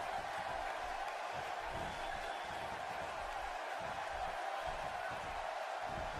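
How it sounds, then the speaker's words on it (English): Crowd noise from a video-game wrestling handicap match, a steady, dense roar that holds level throughout with no distinct cheer peaks, like a packed arena heard from a distance. "Listen to this crowd."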